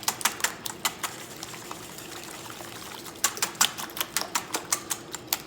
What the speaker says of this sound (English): I like to get those whisked up pretty good